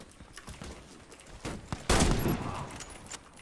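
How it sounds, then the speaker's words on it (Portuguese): Gunfire from a video game shooter, heard as a few scattered shots and a louder burst in the middle, all fairly close and without talk. "Que belo tiro!"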